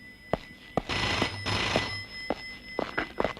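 A red telephone rings loudly in a tense film scene, giving repeated short bell bursts with a sustained electronic tone in between, heard alone with no voices.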